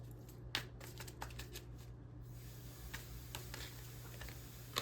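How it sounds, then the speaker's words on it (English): Shadow cards are shuffled by hand, giving soft, close riffling and light papery flicks in a few quick bursts against quiet room tone. "We're going to pull some of these shadow cards out."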